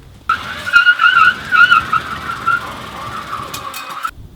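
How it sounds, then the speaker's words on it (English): Tyres of an electric car fitted with fresh lithium batteries screech in a sustained skid for about four seconds, loud and close, with no talk over it. "This is skid attempt 1 in our electric car with fresh lithium batteries."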